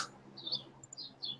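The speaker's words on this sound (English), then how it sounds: "I think you're probably hearing the birds chirping here." Birds chirp outdoors in faint, brief high tweets, a few scattered calls over a low background hum.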